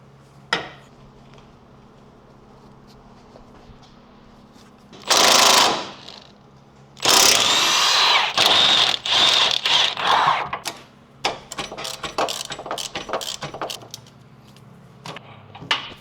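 Suspension bolts and a nut on a Lexus LS430 loosened with a wrench (24, 22 and 17 mm sizes): a faint early clank, two dense bursts of metallic grinding, then a run of quick close clicks and taps.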